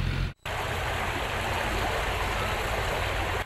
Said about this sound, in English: The Hinkson Creek runs through Columbia and parts of Boone County.